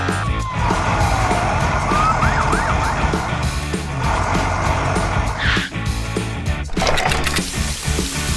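A cartoon fire truck's siren wails in a snowy winter road-rescue animation, the rising and falling tone cutting through a busy background of engine rumble and other effects for several seconds.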